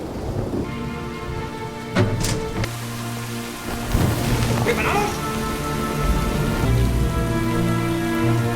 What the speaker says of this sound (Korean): 때마침 감사한 비가 내리기 시작했죠